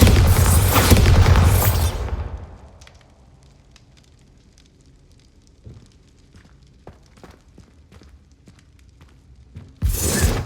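A Bombarda blast in a Harry Potter video game bursts out loud and broad at the start, rumbling into a long decaying tail with scattered small crackles and debris ticks, then another loud burst hits near the end.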